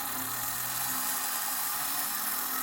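A homemade LEGO steam turbine spins with a steady high-pitched whine, droning continuously and struggling with a slight wavering in its tone.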